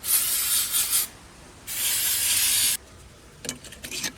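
Two long, loud hissing bursts from an aerosol can of brake cleaner sprayed on threads while lowering a Lexus LS400, close by, followed by a few light scraping and clicking sounds.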